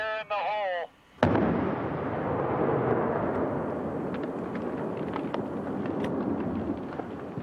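Explosives blast fine-grained reddish rock off a mountainside: a brief shouted voice, then a sudden sharp detonation that rolls into a long, loud rumble of falling rock fading slowly.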